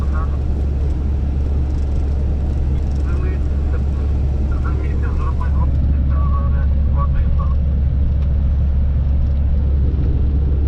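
Heavy grain trucks roll past on a road near the Polish border, a steady loud engine and tyre rumble with deep low-end drone holding throughout, while someone talks over it.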